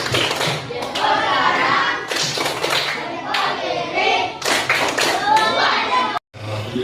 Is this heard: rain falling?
no